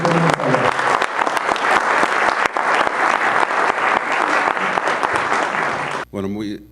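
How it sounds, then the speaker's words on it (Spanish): Loud, dense applause from a conference audience welcoming a guest doctor, sustained clapping filling several seconds before stopping abruptly. "les pido por favor un fuerte aplauso a nuestro invitado de hoy"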